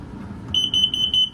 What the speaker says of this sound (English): you have a propane carbon monoxide leak detector. So basically that alarm will go off